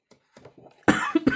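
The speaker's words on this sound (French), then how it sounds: "Excusez-moi, je tousse toujours." A woman coughs: a few faint, soft sounds, then a burst of loud, harsh coughs, three or four in quick succession, close by.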